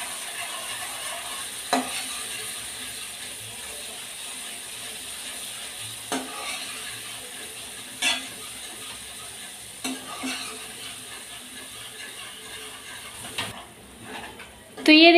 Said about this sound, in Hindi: थोड़े देर हम अदरक लहसुन को भी भून लेंगे।